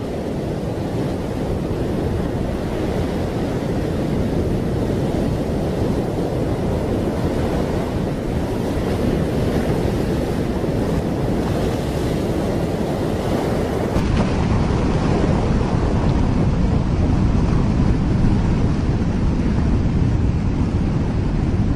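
Simulated roar of ocean water rushing toward the equator of a spinning Earth, a dense, continuous wash of surf and wind that stays loud and steady throughout.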